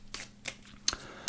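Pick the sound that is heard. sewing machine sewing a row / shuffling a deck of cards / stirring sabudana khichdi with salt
shuffling a deck of cards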